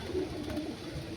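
A Malwai pigeon gives a brief low coo close by, a soft murmuring call over faint background noise.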